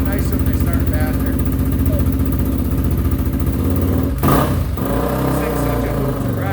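A Honda XR250 motorcycle engine runs steadily right after a kick start, a loud close thumping idle that briefly blips and roughens near the end.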